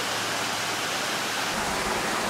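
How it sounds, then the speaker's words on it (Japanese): A small mountain waterfall falls in a steady, full rushing hiss, close and constant throughout, with nothing else audible. "かわいい滝ですね"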